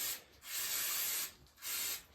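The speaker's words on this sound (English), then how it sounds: "to give the taper surfaces a spray off" Two bursts of brake and clutch cleaner spray onto a crankshaft's taper surfaces, sharp hissing blasts close by, the first short and the second longer, with a brief pause between them.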